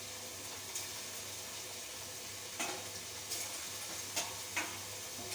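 Chicken curry fries in a thick pan while being stirred, a steady sizzle broken by several sharp scraping clatters of the spoon near the end, close by with no speech.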